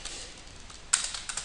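Soft rapid keystrokes on a computer keyboard as text is typed, faint clicks that grow a little louder and busier partway through.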